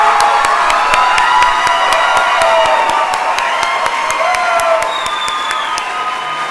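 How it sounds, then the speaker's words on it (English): Loud, sustained applause and cheering fill a nursing pinning ceremony for new RN, BSN graduates: dense clapping from a big crowd with whoops and shouts layered on top, easing slightly near the end. "join me in one more round of applause for this wonderful cohort"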